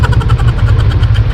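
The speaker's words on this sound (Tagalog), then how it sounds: "ito umaahon yung tricycle" A tricycle's motorcycle engine labors uphill on a Batangas road toward Monte Maria Shrine, loud and close, with a rapid pulsing beat.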